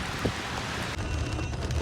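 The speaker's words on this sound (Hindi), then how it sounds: "बाहर बहुत ज़ोरदार बारिश, और इस ज़ोरदार बारिश में बहुत लंबी ट्रैफिक जैम" Heavy rain pours in a dense, continuous hiss outside a vehicle stuck in a long traffic jam on a mountain road through the clouds near Taif.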